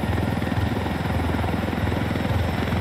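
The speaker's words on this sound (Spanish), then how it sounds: "Hay un helicóptero enemigo a la izquierda, cuidado." An enemy helicopter in Ghost Recon Wildlands drones with a steady, loud rotor chop and engine hum throughout, with no talk over it.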